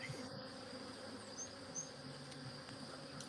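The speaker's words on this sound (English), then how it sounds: "That's a drone versus the worker bees around it." Honey bees buzz steadily around an open hive, a drone among the worker bees, with a continuous low hum close by and no talking.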